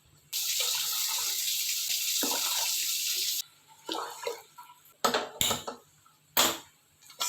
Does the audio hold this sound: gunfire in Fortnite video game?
no